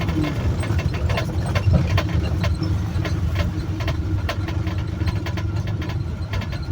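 A Suzuki Carry car engine runs at gentle, light throttle during a driving lesson, a steady low idle-like hum with faint ticking, close by and unaccompanied by talk.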